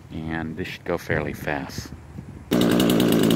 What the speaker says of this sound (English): you can hear the chainsaw is up and running